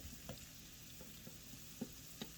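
Philly cheesesteak filling cooks in butter in a pan for a low-carb wrap. The frying is faint and steady, with a few soft stirring clicks and scrapes spaced through it and no talking.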